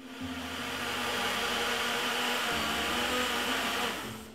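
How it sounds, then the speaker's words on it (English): A kitchen blender runs continuously, whirring through apple, carrot and ginger for a homemade juice, a loud steady motor drone that ramps up at the start and holds throughout without talk. "And I'm gonna simply blend this roughly about 7 minutes."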